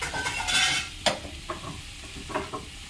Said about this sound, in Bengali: আবার একটু ভালো করে নেড়ে দিচ্ছি